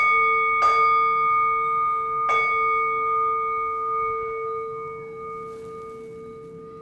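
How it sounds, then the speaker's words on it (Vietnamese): A Buddhist ritual bell rings out in clear, resonant strokes during a ceremony: two distinct strikes a couple of seconds apart, then a faint third, each leaving a long, slowly fading hum. "Bước thứ nhất là 3 tiếng chuông"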